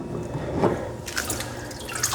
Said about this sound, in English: Just have to let the water drain out of that for a second.